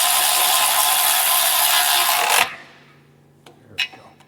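A hand tool tightens the lower ball joint bolts on a Toyota Tacoma, giving a dense, loud mechanical ratcheting that runs steadily for about two seconds, then stops, followed by a couple of faint clicks and taps nearby.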